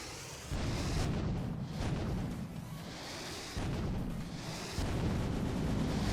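Deep, rumbling video game explosion bursts in a Roblox escape map roll through in waves, heavy low-end booms repeating over a few seconds with no talking.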